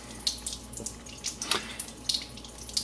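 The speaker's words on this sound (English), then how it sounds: "the water comes out of this stainless steel hose" Alkaline water from an EOS Genesis Platinum water ionizer pours out of a stainless steel hose, a steady soft splashing stream with small irregular bursts, close and without talk.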